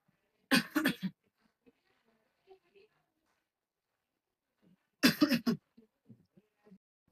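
Two short bursts of coughing, several seconds apart, each a quick cluster of harsh coughs, fairly close, with faint breathing and small noises between, from a man with tuberculosis, at night.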